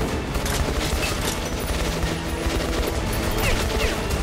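Rapid gunfire from the Metro: Last Light video game, a dense continuous fusillade of shots and booms sustained throughout, loud and busy with no clear gaps.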